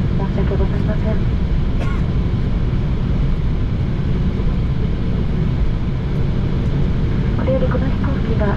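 A jet airliner, J-AIR operating JAL flight 2210 from Sendai to Itami, taxis after landing, heard from inside the cabin as a loud, steady engine drone and rumble, with a cabin announcement spoken over it.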